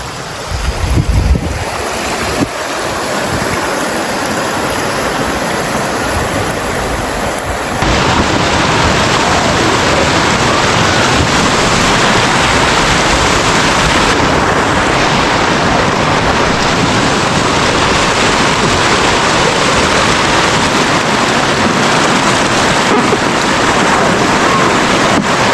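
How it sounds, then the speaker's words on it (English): Rushing whitewater of a rapid on the Upper Colo River in gorge country, heard from a kayak about to run it: a loud, continuous broadband roar of churning water with wind buffeting, steady throughout. "I've got my kayak just about to go down at the rapids itself"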